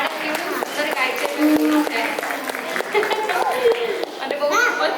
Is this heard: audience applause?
yes